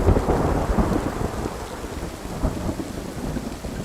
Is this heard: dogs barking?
no